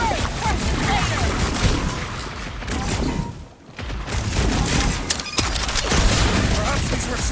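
Gunfire in a Guardians of the Galaxy video game battle, dense continuous shooting and crashing effects that briefly drop out midway, with characters shouting over the noise.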